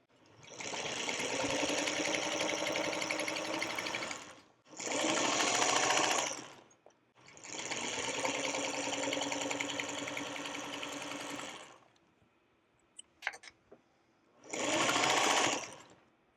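A sewing machine stitches fabric squares onto a quilt block in several long, even whirring runs, then a short final burst, separated by pauses with faint clicks and handling noises.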